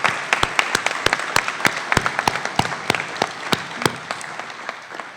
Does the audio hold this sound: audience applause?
yes